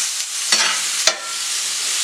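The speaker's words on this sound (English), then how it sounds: "I'm basically going to saute all these vegetables until they soften" Poblano pepper and mixed vegetables sauté in a pan with a steady, even sizzle, broken by two short stirring scrapes near the middle; no voices.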